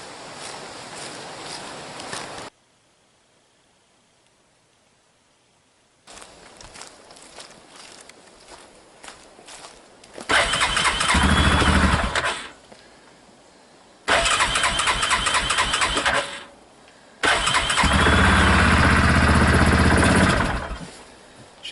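A four-wheeler engine is cranked over several times outdoors, each start attempt catching into loud bursts of running and idling separated by brief quiet gaps, with faint footsteps early on.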